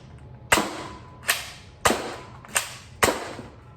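A Nerf Elite 2.0 Quadfire QS4 toy blaster fires five darts in sequence, each a sharp near pop with a short rattling tail, spaced irregularly about half a second to a second apart, with no talk.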